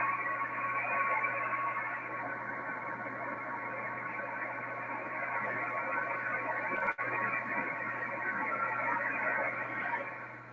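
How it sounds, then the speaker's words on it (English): PSK31 digital-mode tones from a ham radio receiver sit buried in a steady wash of band noise, a faint continuous warble that holds throughout with one brief dropout near the end. "That's PSK 31 down in that noise, and your computer will decode those tones"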